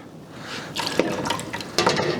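Water is poured back into the trough of a Tormek sharpener, a close splashing trickle that swells in two brief pours, with no talking.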